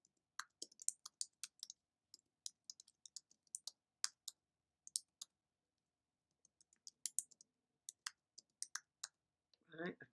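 Fingers type in quick, irregular bursts on a computer keyboard while a title is edited in iMovie, sharp close clicks with short pauses between them, ending in a brief louder rustle.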